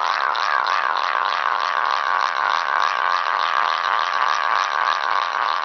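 A continuous buzzing whir rises and falls in quick regular pulses, like a string spinner being pulled and released, close and steady throughout.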